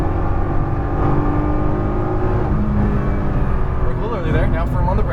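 Nissan GT-R engine pulling hard at full throttle on a racetrack, a steady loud drone with a rising pitch through an upshift, beneath an instructor's continuous coaching.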